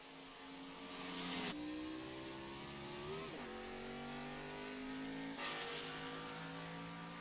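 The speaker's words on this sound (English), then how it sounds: "There's Hopley just going by." Race car on an oval racetrack at Kansas, engine pitch shifting as it drives past, with tonal whines sliding through gear changes under a steady roar of other cars, no talk.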